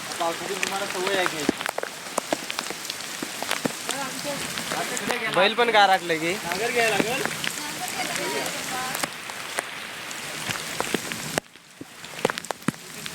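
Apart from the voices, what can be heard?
heavy rain falling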